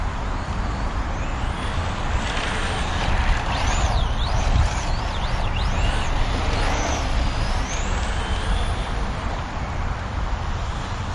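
A Team Associated Datsun 620 RC car with a spool drivetrain drives and drifts, giving off a steady high electric whine that rises and falls in looping sweeps over continuous rumbling surface noise, fairly close and alone.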